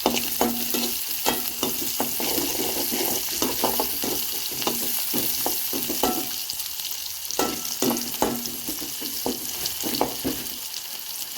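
Continuous hiss of chopped onions and cumin sautéing in hot oil for soya chunk curry, with repeated clinks and scrapes of a spatula stirring the pan, close and steady.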